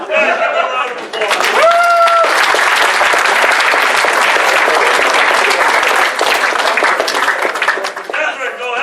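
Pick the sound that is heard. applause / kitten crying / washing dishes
applause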